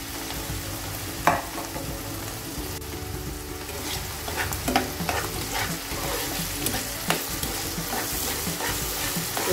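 Ground spices for baacha fish dopiaza fry in a pan with a dense, continuous sizzle, while frequent scraping strokes and light clicks of a spoon keep up a busy, irregular stirring rhythm close by.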